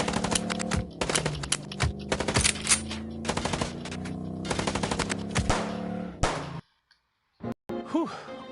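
Bursts of rapid machine-gun fire in a film shootout, loud staccato volleys with metallic clangs and thuds, then a short silence and a few final scattered sounds.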